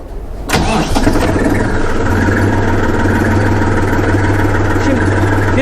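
A Deutz Fahr 3046 E tractor engine cranks and catches after a short quiet start, then settles into a loud, steady diesel idle with a strong low hum that continues to the end.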